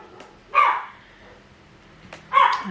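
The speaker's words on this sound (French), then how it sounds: "Allez, ça aboie encore." A pet dog indoors at home barks at the mail carrier in two short, loud bursts a couple of seconds apart, with quiet room tone between them.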